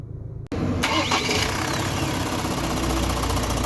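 A Ford Next Gen Ranger engine cold-starts with a sharp crank, then settles into a loud, close idle carrying an unusual rhythmic ticking and whirring from the engine bay, with no one talking.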